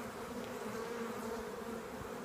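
Honey bees buzzing steadily while a cut-out swarm is installed into a nuc, a dense, continuous drone of many bees close by, fairly quiet and unbroken, with no voices.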